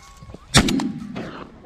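A single sharp shotgun blast while duck hunting outdoors, loud and close, followed by a short fading rumble.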